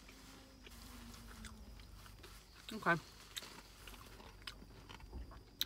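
A crunchy Market Basket spring roll bitten and chewed up close, with a sharp crunch near the middle and softer chewing around it, while a person says a brief word.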